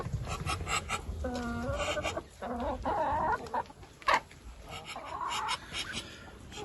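Chickens clucking and calling in a busy farmyard, several birds close by with overlapping short calls and a steady background of rustling.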